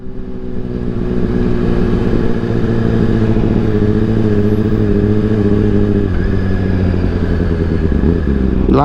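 A Honda CBR600RR sport bike engine runs loud and close while riding, a steady high-revving drone with a slight rise in pitch, then a brief clatter near the end.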